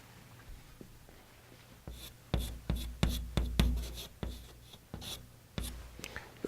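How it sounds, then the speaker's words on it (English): Pen scratching across paper in short, irregular strokes with brief pauses, close and fairly quiet, with no talking. "I'll write it down"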